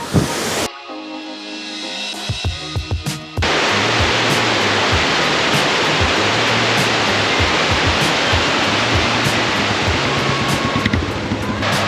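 A waterfall in Idukki roars with a loud, steady, broadband rush that kicks in abruptly after a few seconds of quieter sound and then holds unbroken, with no talking.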